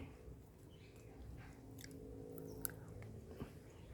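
Freshly picked papaya is chewed close up, with soft wet squishing bites and a few crisp clicks repeating quietly over a few seconds, no talking.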